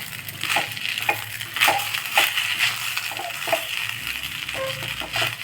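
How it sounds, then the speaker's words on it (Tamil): Sabudana sundal with coriander is roasted and stirred in a pan, giving repeated close scraping and crunching strokes in an irregular rhythm, with no talking. "ஒரு 2-3 நிமிஷம் இதை வந்து நம்ம வறுத்துட்டே இருந்தாலே"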